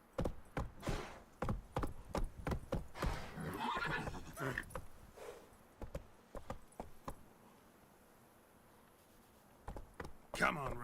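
A horse in The Witcher 3 video game neighs and clip-clops along in quick bursts of hoofbeats, with a rider's voice calling out and a brief quieter stretch before more hooves.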